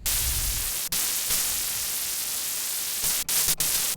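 Dense sizzling static hiss, like frying bacon, from the noise oscillator of an Arturia MiniFreak synthesizer, holds steady with a few abrupt clicks and brief dropouts near the start and end.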